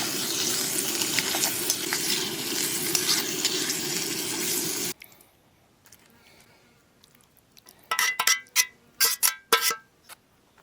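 Thick chunk of squirrel meat frying with sauteed onions at a camp cookout, a loud continuous sizzle that cuts off abruptly midway, followed by quiet and then several sharp close clatters and scrapes.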